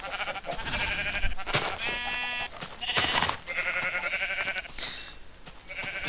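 Repeated sheep bleats from the video game Minecraft, several wavering calls in a row, fairly loud and close, with no talking over them.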